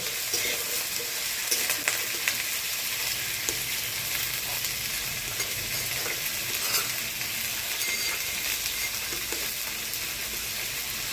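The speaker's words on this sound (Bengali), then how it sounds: "সজনে ডাঁটা আলুটা একটু ভাজা হোক" Moringa drumsticks and potatoes fry in a pan with a steady, close, even sizzle and crackle that runs unbroken throughout, with no voices.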